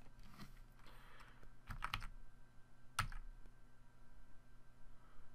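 Cursor keys on a computer keyboard are tapped in a few quick clusters of clicks, close and fairly quiet, with short pauses between presses and a faint hum behind.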